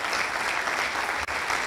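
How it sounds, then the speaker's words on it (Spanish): A church congregation claps together during a service, producing dense, loud, steady applause with no voices and only a momentary break. "dale ese aplauso al Señor"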